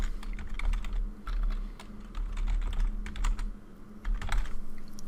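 Typing on a computer keyboard to enter a web address, a steady run of close, crisp key clicks with brief pauses and a low hum underneath, no voices.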